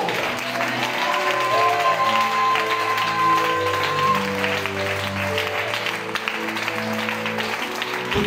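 A church congregation at an evening service applauds and acclaims the Lord, with steady, loud, dense clapping throughout, carried over sustained musical chords.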